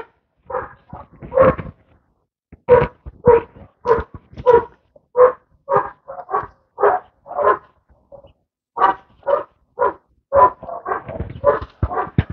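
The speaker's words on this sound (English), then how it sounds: "The dogs are really barking." Several dogs bark repeatedly outdoors near a vegetable garden, loud, sharp, closely spaced barks coming in bursts with short pauses between them.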